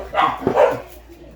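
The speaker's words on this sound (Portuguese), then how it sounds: "Muito menos com os cachorros latindo, né?" Dogs barking in the background of an electronics workshop, a couple of short, fairly close barks in quick succession, standing alone.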